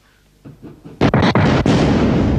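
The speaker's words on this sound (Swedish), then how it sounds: "Jag menar en cigarr som säger pang." A cartoon joke cigar explodes, preceded by a few soft pops and then a sudden loud bang with quick crackling bursts that trails off into a long, rumbling roar.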